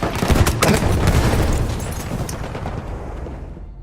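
In the video game Battlefield 1, a grenade explodes with a loud, close boom and a rumbling decay that fades over several seconds, with no talking.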